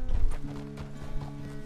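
Horse hooves in Red Dead Redemption 2, a few heavy close thuds at first, then lighter scattered steps over a low steady hum of game ambience.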